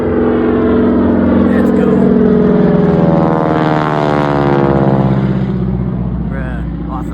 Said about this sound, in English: The plane! It's gonna bomb me!